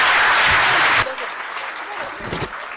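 An audience at a pharmaceutical society international conference in Kenya applauds, a dense burst of clapping that cuts off abruptly after a second, followed by quieter room sounds.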